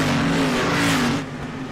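Street stock race cars roar around an oval at Southern National Motorsports Park, a steady loud engine drone with a lapped car trying to get back on the lead lap, the pitch wavering as the cars pass.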